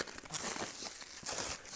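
Plastic shrink-wrap is torn and crinkled off a Disney Blu-ray case up close, with short bursts of rustling and crackling.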